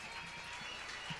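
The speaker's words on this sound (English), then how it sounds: "A great big round of applause." Audience applause at a small club birthday party in Nashville, a faint, diffuse patter of hands across a brief moment, quiet and somewhat distant.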